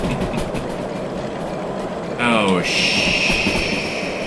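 Locomotive rolling on rails in the VR railway game Derail Valley, a rumbling run under a short spoken exclamation, followed by a sharp rising screech that settles into a steady high metallic whine.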